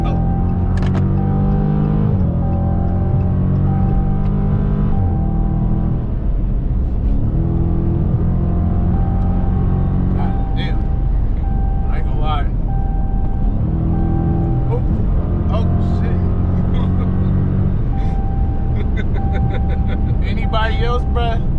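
A Dodge Challenger Scat Pack with about 500 horsepower accelerates hard, its deep engine rumble loud and steady throughout while excited passengers talk and shout over it from inside the car.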